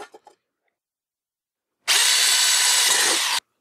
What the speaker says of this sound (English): start drilling small pilot holes